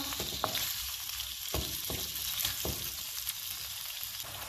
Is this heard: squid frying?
yes